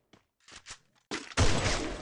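Gunfire in the video game Free Fire, a few short sharp cracks followed by a loud, sustained burst of rapid shots.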